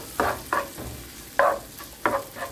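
Bacon and shrimp sizzling in a pan for chipotle shrimp, with a steady low fry broken by four or five louder bursts of stirring and spattering spaced unevenly, close and clear with no talking.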